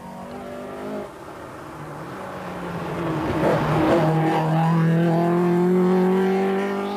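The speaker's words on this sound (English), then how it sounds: "we'll be just awaiting the next driver now to come around the corner" A rally car at the Ballinaglee stage of a Millstreet rally approaches and rounds a corner, its engine note rising and revving as it draws nearer and grows loud, with no talking.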